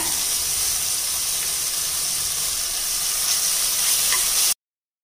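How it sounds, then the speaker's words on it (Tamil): Onions, tomato and ginger garlic paste sauté in a pot for meal maker biryani, giving a close, steady hiss and sizzle with no talk that cuts off abruptly. "இந்த ஸ்டேஜில் தக்காளி சேர்த்துடலாங்க. இப்போ நம்ம இஞ்சி பூண்டு பேஸ்ட்டு சேர்த்துக்கலாங்க."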